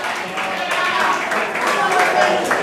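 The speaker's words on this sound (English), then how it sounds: "The crowd applauding and approving." Crowd at a two-out-of-three-falls wrestling match applauding after a neckbreaker through a wooden plank, steady clapping and cheering filling the arena with commentary talking over it.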